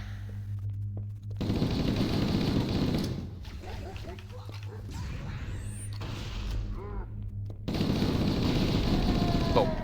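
Sustained bursts of rapid assault rifle fire in Halo: Combat Evolved, loud and dense, broken by a brief pause filled with lighter game effects before firing resumes.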